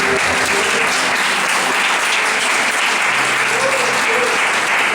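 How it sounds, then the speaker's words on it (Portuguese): A church congregation bursts into sustained, dense applause during a Baptist worship service, the clapping steady and loud throughout with faint voices mixed underneath. "Vamos aplaudir o nome do Senhor Jesus"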